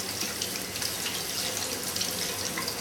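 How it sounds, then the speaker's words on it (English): Tap water running into a kitchen sink while rinsing a ladyfish fillet, a steady close splashing hiss with slight changes as the fillet moves under the stream, no talking. "I'm rinsing out the fillet in the sink to get any blood off of it, any scales"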